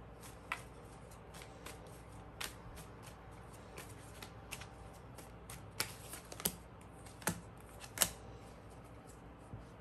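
Tarot cards are shuffled close up in a quiet room, soft papery riffles and crisp flicks and taps scattered irregularly over a faint background hiss.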